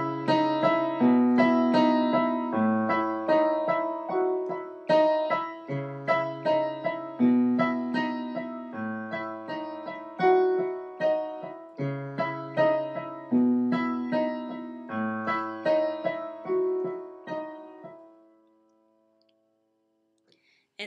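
Solo piano plays an arrangement, with steady repeated broken chords and a melody line running for about seventeen seconds before the notes ring out and fade to near silence.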